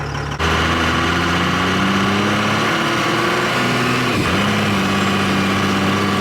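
Twin-turbo Cummins diesel pickup engine revving up under acceleration, a loud steady drone with rising harmonic tones and turbo whine, a brief dip and shift partway through, heard from inside the cab without talking.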